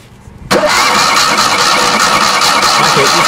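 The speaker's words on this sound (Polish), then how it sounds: "kręcąc rozrusznikiem zauważyłem" A Polski Fiat 126p Maluch 600 engine, thirty years old and cold after long storage, has its starter motor cranking: a sudden loud onset followed by steady, dense mechanical churning that holds close and constant to the end.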